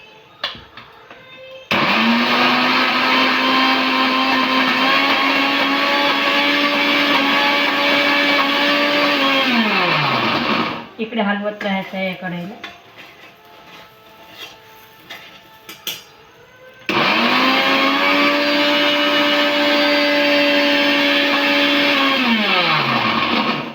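A mixer grinder grinding soaked lentils with water whirs loudly in two long bursts, its motor pitch sliding down as each run stops, with a brief clatter and a few spoken words between them.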